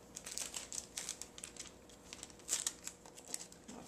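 Strapping tape crinkles and crackles as it is pulled and pressed onto cardstock sheets for a lap book, a quiet, close run of irregular crisp rustles and snaps.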